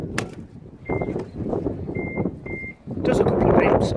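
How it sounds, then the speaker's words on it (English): A Nissan Leaf electric car gives a few short electronic beeps, evenly spaced, as it starts charging, over a steady background rumble, followed by a louder burst of broadband noise. "Does a couple of beeps and he's now charging"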